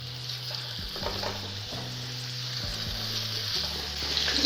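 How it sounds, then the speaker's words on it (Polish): Steady sizzling of chicken frying in a pan, with occasional stirring scrapes under a low hum, close and even throughout. "Teraz wstawiamy patelnię i będziemy podsmażać kurczaka."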